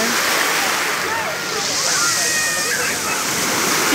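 Small sea waves stirred by a rising breeze wash onto the beach at Lazarevskoye on the Black Sea, a loud, continuous rushing surf blended with wind noise.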